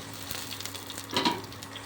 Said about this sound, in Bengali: তারপরে আমরা এখানে জিরেটা, তেজপাতা আর আদা দিয়ে টেলে নিলাম। তারপরে লঙ্কার কুচিগুলো দিয়ে দিলাম।